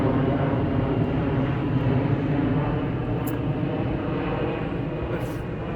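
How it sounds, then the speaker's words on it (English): An airplane passing overhead on a Memorial Day outing, heard as a continuous broad roar of engine noise that holds steady and fairly loud throughout, with no speech. "There's a plane going overhead."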